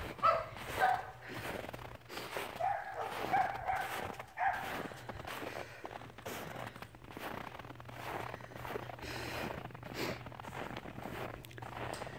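Dogs bark and yip outdoors in the snow amid crunching footsteps, the short barks scattered and moderately near, mostly in the first half.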